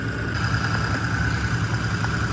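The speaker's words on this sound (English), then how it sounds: "chuck the ARB compressor onto that, and we'll give that another record" An ARB twin air compressor runs steadily with a constant droning motor hum and a high whine, holding an even, loud level throughout without pauses.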